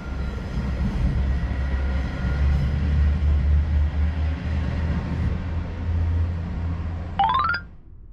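A train rumbles past steadily and close at a level crossing in Tottori, Japan, a heavy low drone lasting several seconds, ending with a brief rising tone before fading out.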